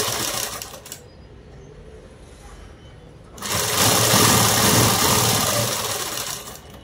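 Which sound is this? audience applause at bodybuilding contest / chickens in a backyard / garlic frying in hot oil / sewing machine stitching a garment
sewing machine stitching a garment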